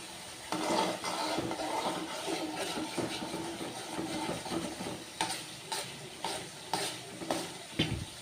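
Milk cream cooks down into ghee in a pan, sizzling and bubbling steadily up close while a spoon stirs and scrapes the bottom in repeated strokes.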